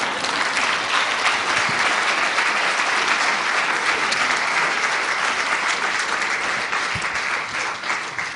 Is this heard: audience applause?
yes